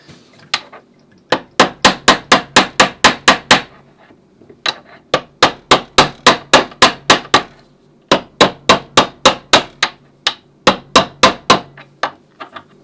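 Sharp metallic hammer blows ring out in quick, even bursts of about eight to ten strikes, with short pauses between runs, as soldered bandsaw blade guides are peened on a hard surface, close and loud.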